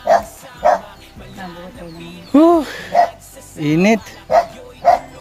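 A dog barks repeatedly in short sharp yaps with a few whiny yelps, close and loud, while a person talks over and between the barks.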